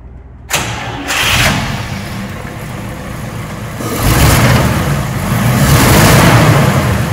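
1937 Cadillac Series 75 V8 convertible sedan cranking briefly on a cold start, then catching and settling into a loud, rich, rumbling idle with a slight rise in revs, heard up close.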